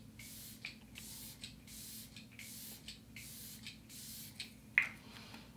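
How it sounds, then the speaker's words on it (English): Watermelon Glow ultra fine facial mist sprays onto a face in a quick series of soft, close hissing bursts, about six short puffs in a row, faint and even. "I'm just going to spray my face really quickly"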